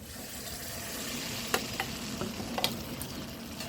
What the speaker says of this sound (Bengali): দিয়ে দিলাম টমেটো পেস্ট